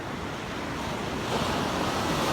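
Ocean surf at Mother's Beach, a calm California beach with a small jetty, washing in as a steady broadband wash that swells a little louder midway, with some wind buffeting the microphone and no talk.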